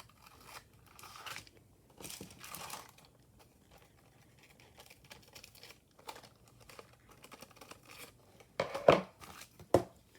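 Scissors snip the corners of a tissue paper journal cover in quick, close, crisp cuts, with a few soft paper rustles and snips earlier and a clearer cluster of sharp snips at the end; no one speaks.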